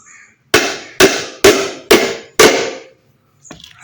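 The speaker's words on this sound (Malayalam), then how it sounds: "ഇനിയിപ്പോൾ നമുക്ക് ആണി വെച്ച് ഉറപ്പിക്കുക" Hammer driving nails into wood while building a chick feeder: five loud, evenly spaced strikes about half a second apart, each ringing briefly, then silence.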